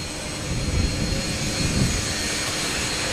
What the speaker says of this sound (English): Tuffman Model 722 Bag Breaker